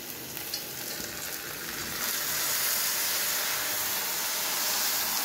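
Chopped tomatoes go into a pan of sautéed onions, sizzling and frying in a steady hiss that grows louder and broader partway through, with no talking over it.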